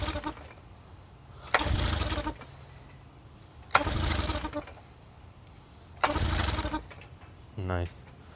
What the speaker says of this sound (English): Nice healthy motor we got right here